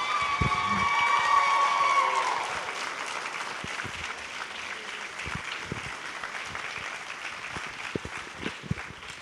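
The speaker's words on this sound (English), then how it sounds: "Can we please just give one big round of applause for these people?" Audience applause at a Littleton Parks and Rec performance of Brothers Grimm, loud and dense clapping at first, then thinning into a lighter, scattered patter that lingers with a few sharp individual claps.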